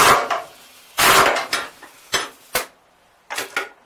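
An Ingersoll Rand 2235TiMax pneumatic impact wrench hammers in short sharp bursts, about six of them with pauses between, close and loud with no talking.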